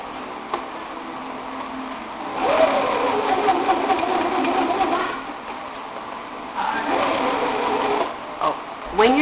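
A sewing machine stitches along the side of stretchy fabric for homemade panties, buzzing in two close, moderately loud runs with pauses between, under a voice talking.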